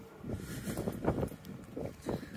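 Low, gusty wind buffets the microphone in uneven bursts on a cold, cloudy Berlin street, rumbling close and loud with no voices.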